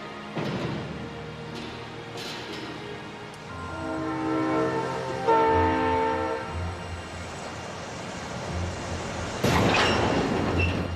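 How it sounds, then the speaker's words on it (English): A moving freight train with boxcars, loud and close, with rumbling wheels, rising metallic squeals and clatter, and a horn-like tonal blast building through the middle before a sharp burst near the end. "Train's moving! Get off!"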